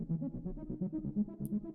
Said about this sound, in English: Then the last layer is this ARP